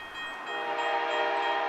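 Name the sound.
freight train horn on mixed freight train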